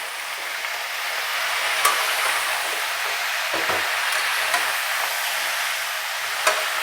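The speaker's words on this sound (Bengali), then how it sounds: "এখন খুব ভালো করে বেশ কিছুক্ষণ এটাকে সাঁতলাতে হবে।" Spices for a papaya curry sauté in a pan, giving a steady, moderate sizzling hiss with a few faint clicks of stirring.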